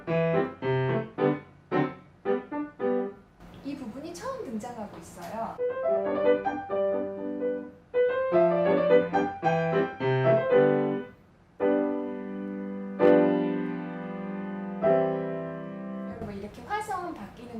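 Solo piano playing a Diabelli sonatina, with a low left-hand bass line moving underneath chords and melody phrases, close and clear with no talking.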